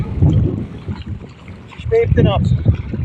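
Wind buffets the microphone in low rumbling gusts at a lakeside carp-fishing spot while voices talk nearby.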